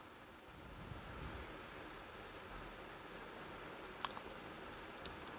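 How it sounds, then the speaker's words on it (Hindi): Water is poured in a single go into a pressure cooker holding soaked lentils for dal makhani, giving a steady, quiet rushing splash that lasts throughout with a couple of faint clinks near the end. "3 से 4 कप हम इसमें पानी ऐड करेंगे। इसमें पानी एक ही बार में डलेगा।"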